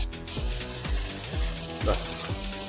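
Tomatoes softened in a pan sizzle and fry steadily after a spoonful of tomato paste goes in, a close, continuous crackle with soft scraping strokes from stirring and no talking.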